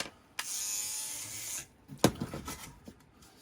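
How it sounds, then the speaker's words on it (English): An electric toothbrush buzzes against a Macintosh Classic II circuit board wet with 99% isopropyl alcohol: a steady whirring burst, then a run of close scrubbing and tapping sounds. "And I'm just going to hit it with the electric toothbrush."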